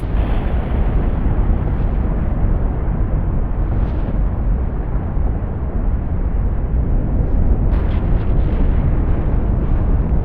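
A volcanic eruption at Sakurajima roars loudly and continuously, a dense, unbroken rumble filling the whole span with no pauses or quieter moments.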